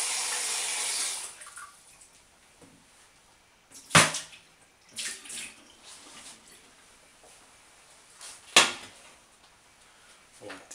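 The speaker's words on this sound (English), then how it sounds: "I need to put water in this." Kitchen tap water runs into a cooking pot in a short burst at the start, followed by scattered clanks and knocks of the pot and utensils, with a few louder bumps.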